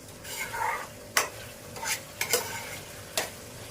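Dal topped with chopped fresh coriander being stirred and roasted in a pan: soft sizzle under a few sharp spoon scrapes and taps against the metal, fairly quiet and close, no talking.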